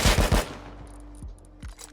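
A gun in the Rust video game fires a quick burst of three sharp shots, then two lighter, spaced reports follow over a faint ringing tail.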